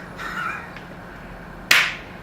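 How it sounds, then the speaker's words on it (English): A single sharp hand clap lands close and loud near the end, after a faint voice and soft background murmur. "You gotta clap, yeah."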